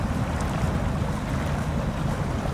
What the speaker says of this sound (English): Water currents are strong.